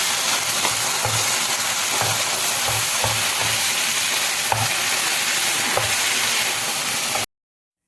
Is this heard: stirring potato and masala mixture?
yes